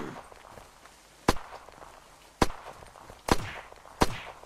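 Sportshot rifle fired in the video game Unturned: four sharp, loud cracks at uneven intervals, each brief and punchy, standing out over faint game ambience.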